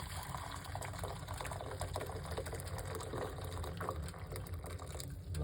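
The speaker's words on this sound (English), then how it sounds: "We're going to put 1 cup of water," Hot water poured from a kettle into a cup, a continuous gurgling, splashing stream with a faint motor-like hum behind it, steady and close for several seconds without talking.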